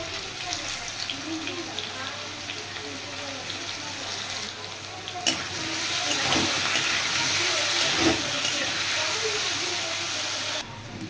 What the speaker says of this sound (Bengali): এবার পরিমাণ মতো নুন হলুদ দিয়ে আলুটা আমি ফ্রাই করে নেব একটু